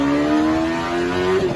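A Mazda Miata fitted with a Honda CBR1000RR motorcycle engine revs high, a loud sustained whining tone that climbs steadily over a second and a half before briefly dipping, close and alone.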